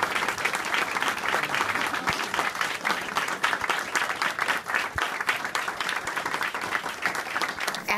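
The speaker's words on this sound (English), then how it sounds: "Everybody's eager to give him a round of applause" A room of law students at UW Law School applauds a professor at the end of his last class, dense sustained clapping that fills the space evenly from start to finish with no talk over it.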